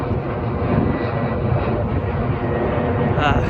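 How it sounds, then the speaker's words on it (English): Airplane departing an airport near the Columbia River passes overhead, a steady broad engine roar that holds loud throughout with a faint voice beneath. "Why are you departing so late? The airport is like way over there."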